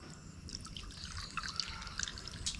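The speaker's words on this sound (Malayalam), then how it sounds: "ഇനിയാണ് നമ്മളിതിലേക്ക് വെള്ളം ഒഴിച്ചു കൊടുക്കുന്നത്" Soft trickling and dripping of water poured into hanging plant pots with drainage holes, close and quiet, with small irregular splashes over a low background hiss.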